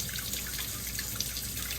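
Room-temperature water runs from a tap into a kitchen sink in a steady, close trickle. Small drips and splashes sit over a constant low wash, with no talking.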